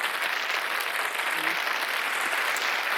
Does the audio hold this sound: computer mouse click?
no